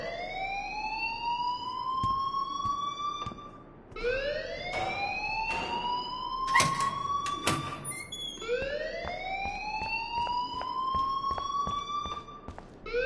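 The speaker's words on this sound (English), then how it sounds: "please turn off that alarm since that's your job" An alarm in a PS4 video game wails in rising sweeps that repeat about every four seconds, steady and fairly loud, with a few sharp clicks scattered between the cycles.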